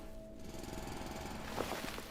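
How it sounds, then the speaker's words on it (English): Steady mechanical drilling from a handheld drill in the video game Foundry, a continuous loud grinding whir with a brief rise in intensity toward the end, heard alone without talk. "I can drill that out and everything"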